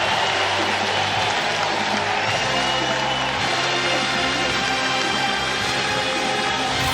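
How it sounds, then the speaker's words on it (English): A college basketball crowd at McCamish Pavilion during Clemson vs. Georgia Tech applauds and cheers during a late-game timeout, a loud continuous roar of clapping and voices in a large arena. "Crowd on their feet here at the McCamish Pavilion"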